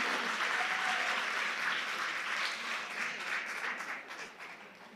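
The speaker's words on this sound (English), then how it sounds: "Let's give her a round of applause" An awards-gala audience at the Simply Ann Women of Excellence event applauds an honoree, a steady wash of many hands clapping at moderate distance that gradually thins and fades toward the end.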